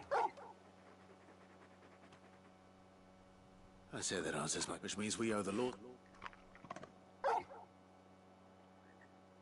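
A dog in the video game Final Fantasy 16 lets out a couple of short, high whimpers, one at the start and one near the end, with game characters talking over the background in between.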